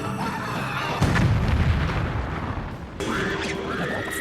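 Heavy gunfire bursts out from a 1994 Digital Pictures live-action video game, two loud booming volleys a couple of seconds apart, each trailing into rough rumble.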